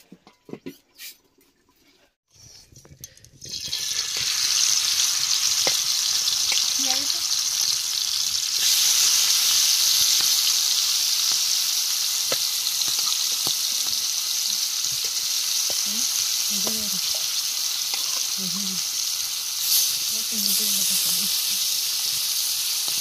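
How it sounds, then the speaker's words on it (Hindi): Prawns (chingudi) frying in a pan: a loud, steady hiss and sizzle fills the clip after a quiet start, with occasional stirring clinks and faint voices in the background. "चिंगुड़ी फ्राई"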